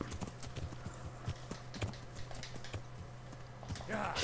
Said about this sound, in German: Pferd, alter Pebbles.